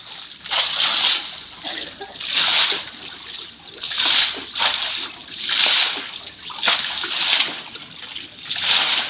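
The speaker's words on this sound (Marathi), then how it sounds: "पाणी कुठल्या पद्धतीने ह्या घराघरात शिरतोय" Rainwater flooding into houses in Solapur, heard as rushing, splashing water in repeated surges, loud and close, with the sound swelling and easing roughly every second and a half.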